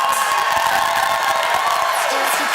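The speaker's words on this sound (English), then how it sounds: "a real loud round of applause for this group" A large convocation crowd cheers loudly, a continuous roar of voices and whoops with applause mixed in.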